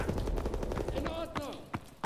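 Gunfire in the World War II shooter game Call of Duty WWII, with a possible MP40 in use: short bursts and sharp shots over dense battle noise, with a few distinct loud cracks near the end.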